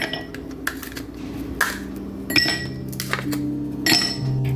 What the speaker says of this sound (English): We're gonna add a few pieces of ice.